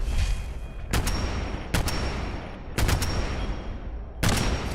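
Heavy-recoil gunfire in the Fallout 4 video game: four loud, sharp bursts of doubled shots spaced about a second apart, each ringing out over a constant rumbling game backdrop.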